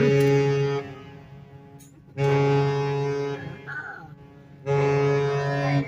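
A deep cruise ship horn, the Azamara Pursuit departing Valdez, Alaska, blows in long, steady blasts, three separate toots with pauses between, carrying a strong low drone.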